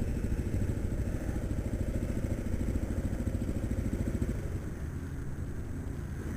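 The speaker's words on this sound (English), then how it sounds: "There's the Harley." A Harley-Davidson motorcycle engine rumbles in a steady, loping idle with rough, clattery low pulses, moderately loud and constant, fading slightly toward the end, with no voices.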